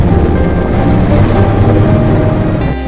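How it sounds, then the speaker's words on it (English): Supply and rescue helicopter flying over the Everest Base Camp trek in cold, windy mountain air, a steady loud rotor and engine drone filling the whole stretch, with no voices. "We see a lot more supply and rescue helicopters in the sky now."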